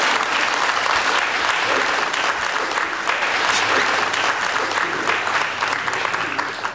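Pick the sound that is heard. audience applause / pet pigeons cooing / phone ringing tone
audience applause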